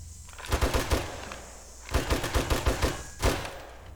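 Gunfire at window shutters in the console version of 7 Days to Die: three separate bursts of rapid automatic shots, loud and close, with short quiet gaps between them.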